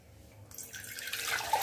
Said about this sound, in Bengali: একটুখানি জল দিয়ে দিলাম।